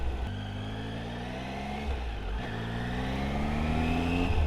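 Triumph Tiger motorcycle engine while riding on rural Ozark roads in Missouri, a steady close engine note rising slowly in pitch through the gears, with a brief dip midway and no talk.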